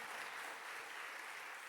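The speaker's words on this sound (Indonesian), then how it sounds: "Kita kasih tepuk tangannya yang paling meriah buat Tuhan kita." A church congregation applauds in a dense, steady wash of clapping, fairly soft and even throughout with no voices over it.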